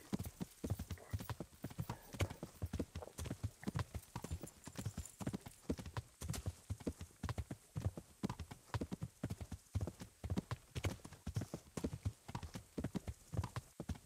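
Horse hooves clip-clop steadily in the medieval video game Kingdom Come: Deliverance, a long even rhythm of close, soft hoofbeats continuing throughout.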